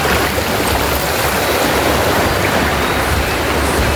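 Gentle surf at a rocky beach on a windy day makes a steady, loud wash of broadband noise. The rushing water and wind hold an even, unbroken level.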